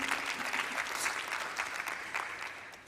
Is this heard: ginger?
no